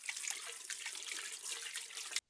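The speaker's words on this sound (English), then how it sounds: "I wash my face with cold water." Cold water runs steadily from a bathroom tap into a sink for a couple of seconds, a close, even hiss and splash that stops abruptly at the end.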